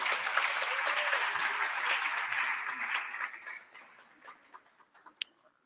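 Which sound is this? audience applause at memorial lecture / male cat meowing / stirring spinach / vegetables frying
audience applause at memorial lecture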